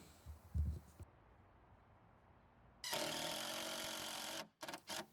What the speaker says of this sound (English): I'm actually screwing into some holes